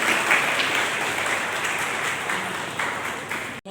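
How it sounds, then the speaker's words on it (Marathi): Audience at a gathering breaking into loud, sustained applause, a dense wash of many hands clapping at steady volume that cuts off abruptly near the end. "जोरदार टाळ्या होत जाऊ देत मंडळी."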